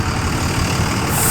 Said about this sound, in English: Another fucking truck.